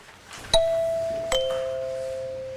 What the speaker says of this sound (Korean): 실제 수능 시간표에 맞춰 종이 울립니다.